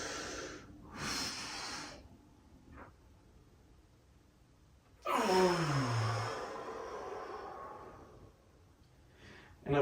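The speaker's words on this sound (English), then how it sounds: "take a big deep breath" A deep breath taken during a calisthenics stretching routine: a loud breathy inhale near the start, a quieter pause, then a long, heavy, close exhale with a slight vocal tone, followed by another short breath at the end.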